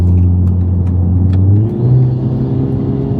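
A 540 bhp Golf R with a custom valved exhaust revs with a deep, throaty tone, the pitch climbing then shifting as it passes nearby, loud and without talk.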